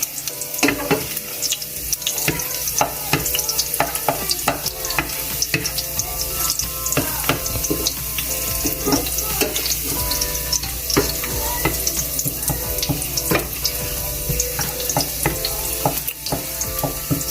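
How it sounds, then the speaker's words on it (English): Goat meat dropped into a pot of briefly burnt curry for Jamaican curry goat, frying in a dense, constant loud sizzle with repeated scraping and clattering of a stirring spoon against the pot. "we just add the meat to the pot and stir"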